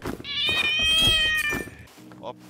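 Cat meowing inside the video game Rust, one long drawn-out wavering meow, loud and close, followed by a few low spoken words.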